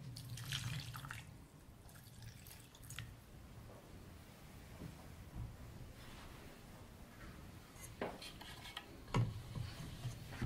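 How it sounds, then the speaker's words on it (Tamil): Water is poured into a cluster bean (kothavarangai) vegetable juice during home preparation, giving a soft, continuous splashing and trickling with a few sharper drips and clinks near the end, close and fairly quiet with no talk. "தண்ணி தேவையான அளவு நம்ம ஊற்றிக்கலாம்."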